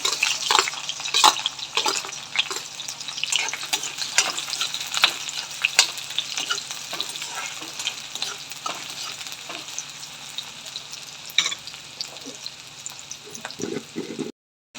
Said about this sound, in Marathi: आपलं तेल गरम झालेलं आहे आपण त्याच्यात कांदा टाकून घेऊ हिरवी मिरची टाकून घेऊया